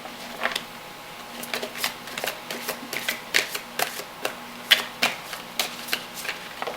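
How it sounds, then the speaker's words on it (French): Tarot cards are shuffled and drawn by hand, giving a series of crisp riffling flicks and snaps in an irregular rhythm, close and clear, with no one speaking. "Alors, je vais vous tirer encore 3 cartes."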